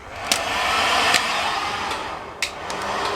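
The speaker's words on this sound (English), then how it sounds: "Do not burn your jeans while putting the heat gun on them." A heat gun blows a steady broadband rush of hot air over vinyl wrap on a BMW 3 Series V-bar, loud and close, with a few sharp clicks and taps over it.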